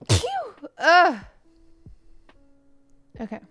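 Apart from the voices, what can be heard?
sneeze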